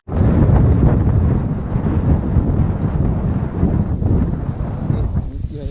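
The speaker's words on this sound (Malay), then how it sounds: "Angin kuat, angin kuasa 14-15 knot pun." Strong wind of about 14 to 15 knots blows at the sea, a loud, constant roar buffeting the microphone with no letup.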